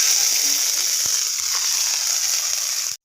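Whole cinnamon, cardamom and black pepper sizzling in hot oil, a steady bright crackling hiss that holds loud and close from start to finish, then cuts off abruptly.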